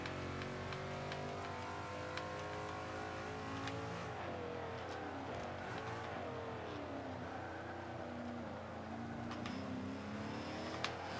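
A 2005 Ford GT engine in Forza 5, racing in an A Class King of the Road challenge, drones steadily with shifting pitch as it revs and eases off through corners, and a faint tire squeal cuts in now and then.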